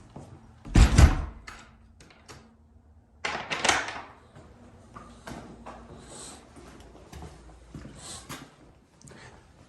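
Old wooden pocket doors in a house slide and bump shut nearby, making two loud rolling thuds followed by lighter clunks and rattles.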